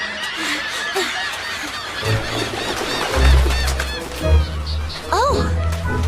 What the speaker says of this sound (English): What are those seagulls up to?